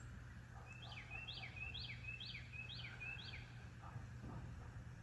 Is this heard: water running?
no